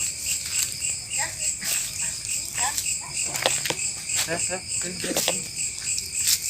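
Crickets chirp at night near an old well in a dark outdoor spot, a dense continuous high trilling under brief bursts of nearby talking and rustling footsteps.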